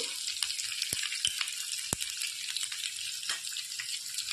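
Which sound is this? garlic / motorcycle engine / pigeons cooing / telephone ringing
garlic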